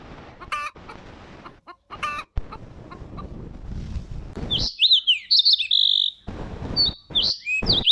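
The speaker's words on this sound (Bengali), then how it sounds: "হাঁস মুরগিদের খাবার দাও" Chickens cluck and chirp in short bursts after some soft rustling and thumps, the calls fairly close and loud.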